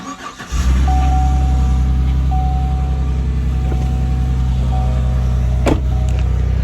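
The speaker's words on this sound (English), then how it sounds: "I turned on the truck because we're about to go to school right now." A truck engine catches and settles into a loud, steady idle rumble close by, while a thin electronic beep sounds on and off over the running engine.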